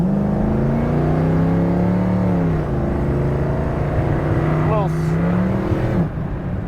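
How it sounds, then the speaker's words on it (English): A 1972 Ford Maverick accelerates hard through first gear, its engine note climbing steadily and close before a brief dip, then rising again and settling toward the end under continuous road and engine noise. "let me get into it and see what it does through first gear."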